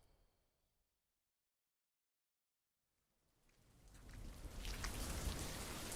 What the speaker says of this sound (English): Of course it had to rain.